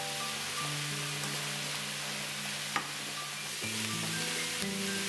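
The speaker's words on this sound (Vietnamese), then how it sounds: "Rồi mình cho nấm vào trong son rồi mình chiên." Mushrooms fry in a pan with a steady, dense sizzle and crackle throughout, accompanied by low, faint background tones and one small clink partway through.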